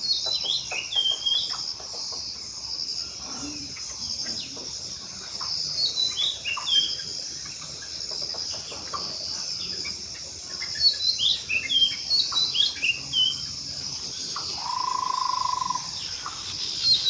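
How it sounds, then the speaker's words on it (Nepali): Birds sing and chirp in a misty hillside morning, with repeated short tweets and calls at middle distance over a steady insect and cricket hum, one longer whistled note near the end. "एकछिन सुन्नु है चराको आवाज"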